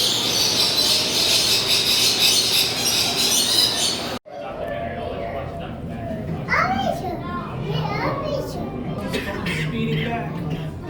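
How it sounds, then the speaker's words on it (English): A mass of birds squawk and call from all around, with shrill cries over a noisy outdoor background. Children's voices and chatter mix in with the birds. "There's just birds everywhere."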